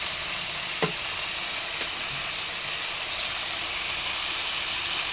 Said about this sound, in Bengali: ছলবল ছলবল, তেলে তেল।